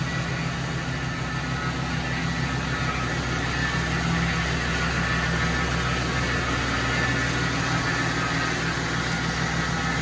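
Ford F-350 pickup, a totaled truck under rebuild, running steadily just after its first start: an even, continuous engine drone with no breaks or revving, holding at one level throughout.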